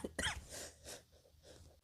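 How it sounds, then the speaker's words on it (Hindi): A single person coughing during a spoken economics lesson, a sharp burst followed by a few softer throaty coughs and breaths, close to the microphone. "सॉरी, थोड़ा सा खांसी आ गया"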